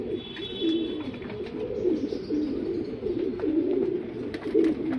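A male and female breeding pair of pigeons coo in soft, throaty, repeated rolls, close by and continuous over a light background hum.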